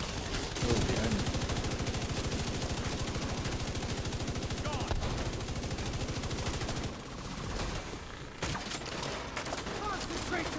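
Sustained machine-gun fire in The Division 2 from a tank build, a loud, rapid stream of shots that carries on for about seven seconds, then breaks into scattered bursts and impacts.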